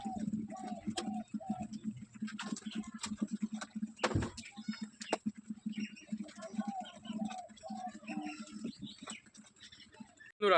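Pigeons coo repeatedly close by in a rhythmic series of soft low calls, with wing flaps, taps and light clatter among the birds, a sharp knock near the middle.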